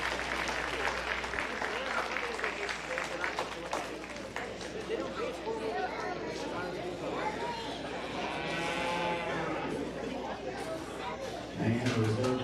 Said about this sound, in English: Let's give that young lady a big round of applause.